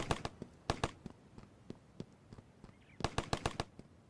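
Rapid bursts of gunfire in the video game Ravenfield, including a sniper rifle, crack out in clustered volleys and scattered single shots, sharp and fairly close, with no talk over them.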